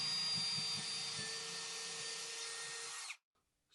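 A Greenworks 24V cordless drill runs at a steady, close, high whine for about three seconds, then cuts off abruptly into silence.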